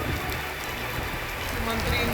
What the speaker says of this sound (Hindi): इधर नूंह में भी सुबह से हो रही बरसात से मौसम सुहावना हो गया